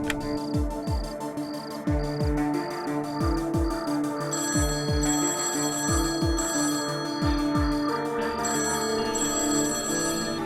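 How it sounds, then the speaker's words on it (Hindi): A phone rings in a repeating electronic ringtone pattern, steady and fairly loud, over a rhythmic musical beat with no talking. "Naina, please please please phone उठाओ, प्लीज"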